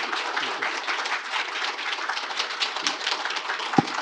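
A room full of people applauds a visiting congressman, steady close clapping that carries on evenly, with one sharp knock near the end.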